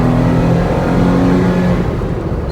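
A 2008 Jeep Wrangler engine pulls steadily while accelerating to about 35 mph, a loud, continuous drone with rising harmonics and constant road and wind noise throughout, with no talking.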